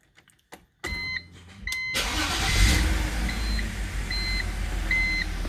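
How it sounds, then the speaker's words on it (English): A 2006 BMW X3 with a misfire code on cylinder two gets started after a few clicks and short beeps, cranking briefly before catching into a steady idle hum, while chimes repeat in the cabin. "So then after we have to start the engine,"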